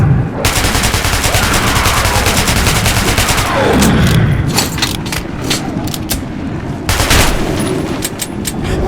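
Loud, dense gunfire from the video game Metro 2033 Redux, rapid bursts of shots crackling continuously with brief pauses, set against a chaotic battle scene with a few faint shouted voices.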